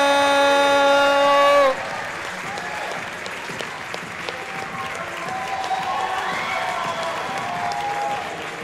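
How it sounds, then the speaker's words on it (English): A crowd applauds a squash player at the NSL Finals between the Nashville Crushers and New York Knights, steady clapping heard after a loud sustained horn-like tone cuts off. "Please give a round of applause to Timmy Slim Tim Brownell."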